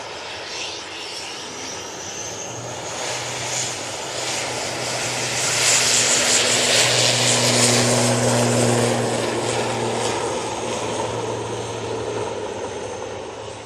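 A propeller aircraft departs Manchester Airport with a loud, steady engine drone and droning propeller hum that builds to a peak midway and then eases slightly, heard alone without talk.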